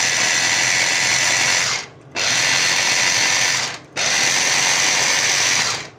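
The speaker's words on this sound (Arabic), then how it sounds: "بعد ما ضربنا البصل والطماطم في الكبه" An electric food chopper blends onion and tomatoes in three loud, harsh whirring bursts, with a short pause between each pulse.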